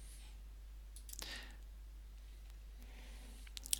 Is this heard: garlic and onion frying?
no